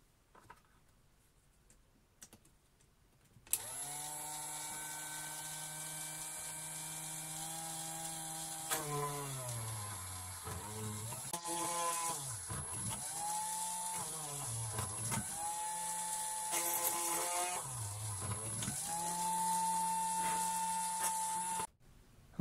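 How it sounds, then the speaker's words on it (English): A benchtop drill press boring holes through a copper-clad PCB: a steady motor whine starts abruptly, with pitch dips each time the bit bites into the board, continuous and fairly close with no talking. "I might as well drill the holes in a drill press"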